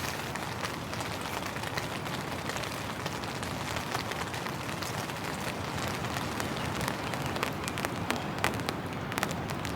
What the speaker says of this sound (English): the nice pitter patter of the raindrops on the big tent